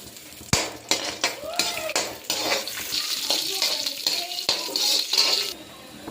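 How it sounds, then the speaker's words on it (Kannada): Cashews and raisins fried in Nandini ghee in a pan for rava laddu, a utensil scraping and stirring against the metal with clinks and knocks over a soft, steady sizzle. "ಗೋಡಂಬಿ ದ್ರಾಕ್ಷಿ ತುಪ್ಪ ಸ್ವಲ್ಪ ಫ್ರೈ ಮಾಡ್ಕೊಬೇಕು."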